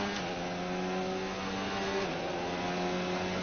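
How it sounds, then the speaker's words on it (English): A Formula 1 racing car engine holds a steady high-pitched rev, loud and close, with its pitch shifting slightly as it builds for the launch, heard alone without talk. "Build up the revs, then go."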